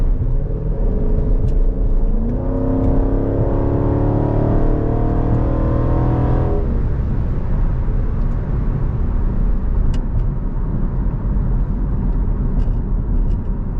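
A Jeep SRT accelerating on the road, loud engine revving with rising gear-by-gear pitch sweeps for several seconds, then settling into a steady cabin rumble.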